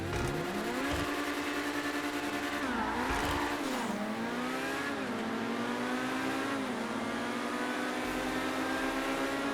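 Sports cars race in GTA 5, a Grotti and a Pegassi Torero XO, their engines droning loud and close with rising revs, a couple of sharp gear-change dips and a brief tire squeal, all without talk.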